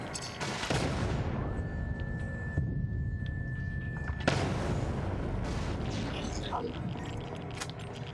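Turret fire in a space video game, bursts of booming shots at the start and again midway, over a dense game soundscape with a steady tone, fairly close.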